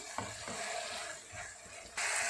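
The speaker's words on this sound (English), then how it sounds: "So we'll fry for another 1 minute." Pasta sauce fries in a pan with a soft, continuous sizzle and crackle. The sizzle grows brighter and louder near the end, and no one speaks.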